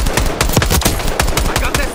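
Close, loud rapid gunfire in Call of Duty Black Ops 6 multiplayer, a quick stuttering volley of shots with overlapping game sounds and faint voice chat.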